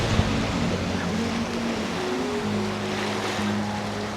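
Strong wind roars steadily across an open beach at a resort in Mabini, Davao de Oro, a broad continuous rushing with surf blending in and a faint low engine drone.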